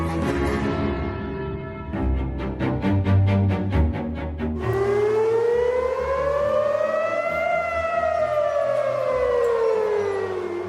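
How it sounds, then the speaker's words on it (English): Air raid sirens over Tel Aviv, Israel, loud and continuous, first a pulsing warble and then a long wailing tone that rises slowly and falls away, with no voices. "You are hearing the sound of air raid sirens over Tel Aviv, Israel, earlier this week."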